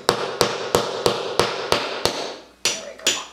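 A bathroom grab bar anchor is tapped through drywall with about ten sharp, evenly spaced hammer taps. After the steady run there is a short pause, then two final knocks.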